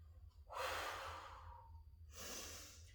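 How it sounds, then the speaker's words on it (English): Breathing during a pilates core exercise: one long, close, airy inhale followed by a shorter breath after a brief pause, heard alone without talk. "Inhale up."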